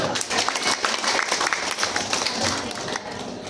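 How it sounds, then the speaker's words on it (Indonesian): An indoor audience at a training seminar breaks into sustained applause, dense clapping throughout that tapers slightly near the end. "Tepuk tangan dulu."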